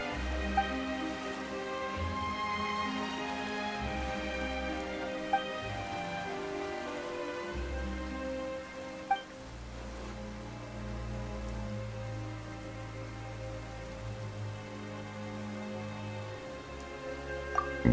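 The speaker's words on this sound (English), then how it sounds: "Why is it raining all of a sudden?" Rain falls steadily on surfaces as a constant soft patter throughout, with occasional louder drips and a few faint tonal sounds in the background.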